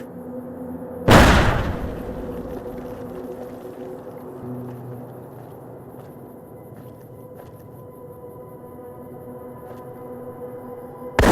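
A single loud grenade blast in modded Fallout New Vegas gameplay, a sharp close burst about a second in, followed by a long rumbling decay under a steady background hum.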